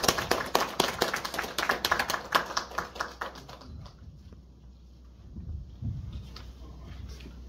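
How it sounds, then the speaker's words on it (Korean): An audience applauds a lecturer at a talk, with brisk, close clapping for about four seconds before it fades into quiet room noise and faint shuffling. "큰 박수로 권수건 고모님 부탁드립니다"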